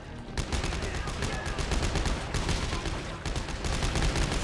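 Rapid bursts of gunfire from Dead Space 3 co-op gameplay, a dense, steady crackle of shots running through the whole stretch, loud and close with no break.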